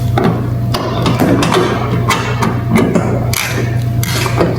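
A ratchet with a 10mm socket and extension works on short bumper bolts, giving quick clicking and clattering bursts over a constant loud hum in a garage.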